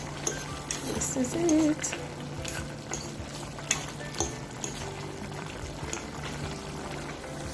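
Cut carrot and Irish potato tumble into a pot of seasoned Jamaican stewed beef, with scattered clinks, light splashes and soft sizzling close up under a short spoken phrase.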